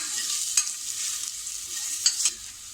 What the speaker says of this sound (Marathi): आणि थोडंसं आलं हे आपल्याला व्यवस्थित असं परतून घ्यायचं आहे आणि गॅस आपल्याला मंदच ठेवायचा आहे।